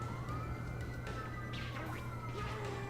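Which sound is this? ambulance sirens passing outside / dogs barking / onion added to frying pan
ambulance sirens passing outside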